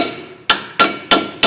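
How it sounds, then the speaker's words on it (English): Four sharp, loud metal hammer blows at a steady rhythm, each ringing briefly, as a part is driven into a Mustang rear end housing during a Heidts Pro G independent rear suspension install. "you want to use a tool to kind of hammer it in"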